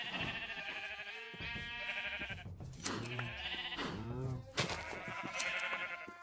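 Sheep in Minecraft bleat several times, clear wavering cries that come and go, with someone talking in German between them.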